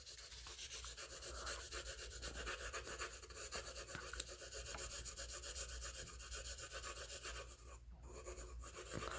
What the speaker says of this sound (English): And then I'm going to use my blending stump to get it blended out.